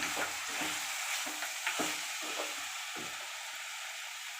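Spoon stirring chilli powder and coriander powder into a bottle gourd and raw mango tamarind curry in a pan, with repeated soft scraping strokes over a quiet, steady simmering sizzle.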